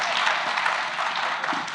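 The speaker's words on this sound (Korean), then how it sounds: "정말 박수 한번 보내주십시오." Steady applause from a crowd, a dense wash of many hands clapping without pause, with no voices on top.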